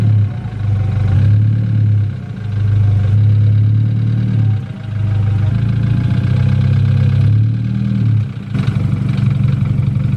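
A BMW F30 car creeps up onto ramps with a loud, close, low engine rumble that dips briefly a few times as it eases forward.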